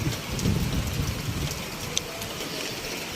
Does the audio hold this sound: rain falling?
yes